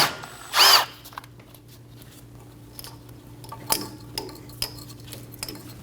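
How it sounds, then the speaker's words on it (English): A power tool spins briefly to back out a bracket bolt with a 10mm socket on a Chevrolet Express 2500's upper control arm area, one short loud burst followed by faint metallic clinks and taps of tools and parts nearby. "Using a 10mm socket, remove the bolt for the bracket."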